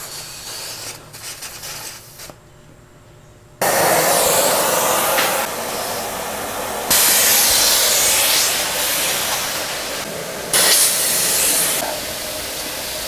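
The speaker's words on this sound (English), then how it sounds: "First, we'll time how long it takes to air down from 38 PSI to 20 with these" Air hisses steadily out of a tire through a deflator during airing down from 38 to 20 PSI, a loud broadband rush that stops briefly, then resumes in several sustained stretches of varying strength, with no talk.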